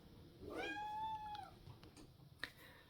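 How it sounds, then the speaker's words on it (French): A kitten lets out one clear, drawn-out meow close to the microphone, followed by a few faint clicks and ticks in a quiet room. "C'est l'intervention du chaton."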